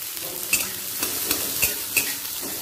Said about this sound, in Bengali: উচ্ছেটা ভেজে নেব।